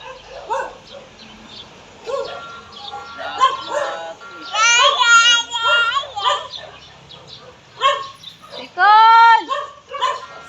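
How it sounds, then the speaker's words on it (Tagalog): An excited pet dog barks, yips and whimpers in repeated bursts up close, with sharper high yelps late on, while people talk over and between the sounds in a home setting. "tuwa kasi yung aso namin na yan, oh."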